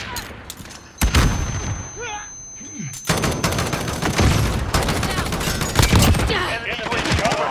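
Rapid gunfire from a powerful gun in a first-person shooter game, loud bursts repeating steadily through the clip after a brief quieter opening, with faint speech mixed underneath.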